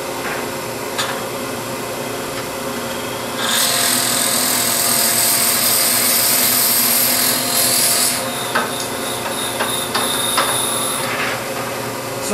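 A 1 1/8 inch Forstner bit bores into wood mounted on a lathe, the motor humming steadily while a loud, harsh cutting rasp runs for several seconds, then eases into lighter scraping and taps.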